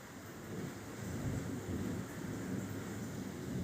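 Low, continuous thunder rumbles through a rainy storm, a steady broad roar with wind noise against the microphone, fairly close and unbroken for several seconds, no voices present.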